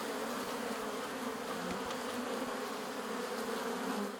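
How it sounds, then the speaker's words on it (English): Honeybees buzz around a big hive rescued from a garage wall, forming a dense, continuous drone with individual bees whizzing close by, no voices. "And my honeybees are out."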